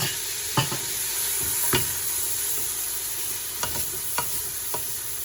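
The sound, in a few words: stirring potatoes and spices frying in a pan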